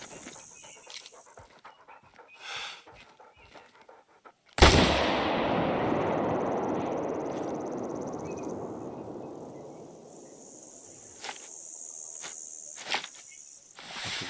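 A single loud shotgun blast in the hunting game Call of the Wild, a sharp close crack at mid-clip followed by a long rolling echo that fades slowly over several seconds amid quiet outdoor ambience.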